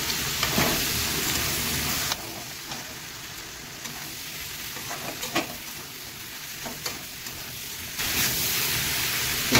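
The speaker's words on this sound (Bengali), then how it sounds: "ভাজা ভাজা হবে, তারপরে মশলা দেবো।" Taro fries in a pan with a loud, continuous sizzle that dips briefly, broken by occasional sharp scrapes from stirring.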